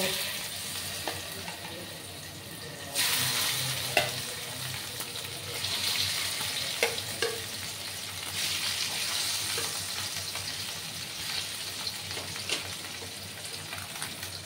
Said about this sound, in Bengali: মাছগুলোকে একটু লাল লাল করে আমি ভেজে নেবো।